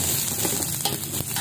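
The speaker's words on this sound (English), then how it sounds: "Igisa muna natin." Chopped chayote and carrots sauté in a hot pan, giving a steady close-up sizzle with light crackles and stirring scrapes, with no talking.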